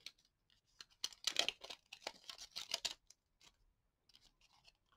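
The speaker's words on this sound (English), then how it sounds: "when you pull your cover tape off, it comes completely off both sides" Protective cover tape peeled off double-edge splice tape set in a pin alignment jig makes quiet, close crackling and tearing rustles in short bursts, with brief pauses between them.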